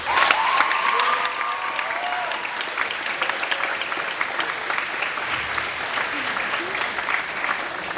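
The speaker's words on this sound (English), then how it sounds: "I want everyone to give the teachers a huge round of applause." An audience of teachers, students and parents at a grade 8 graduation ceremony bursts into strong applause, loudest at first then holding steady as a dense crowd of clapping, with a few voices briefly heard over it.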